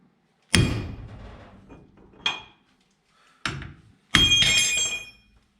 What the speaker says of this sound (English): BFH, which I'm assuming is a big hammer.